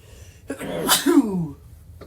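A single loud sneeze, close by, with a sharp intake then a burst that trails off, standing alone in a quiet room.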